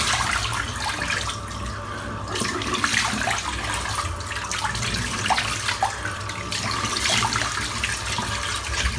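Tap water runs steadily into a sink while shaving soap is rinsed off after a shave, a continuous close splashing rush with small irregular splatters throughout.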